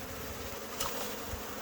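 A honey bee swarm buzzes steadily inside a shed, a dense continuous drone at close range with a brief louder swell partway through and no voices.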